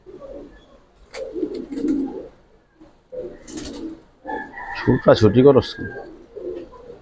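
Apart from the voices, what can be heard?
army land pigeons cooing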